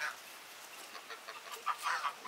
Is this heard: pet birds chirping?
yes